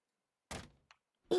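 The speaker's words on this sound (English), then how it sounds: "this time you can just open the door" A car door opening, with a short thunk of the latch and handle followed by a faint click and then a second louder clunk, close and otherwise silent.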